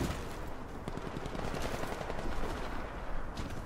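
Continuous dense gunfire from a CrossFire match, rapid overlapping shots and bursts filling the whole stretch at steady loudness with no talk over it.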